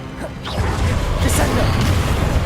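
Spell blasts cast in the video game Hogwarts Legacy: a rapid run of loud crashing booms and whooshes with mechanical clanks, packed close together, while a voice calls out over them.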